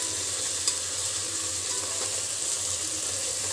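Onions sauté in oil for a village-style mutton rassa, giving a steady, even sizzling hiss that runs throughout with one tiny click; close and continuous, no speech.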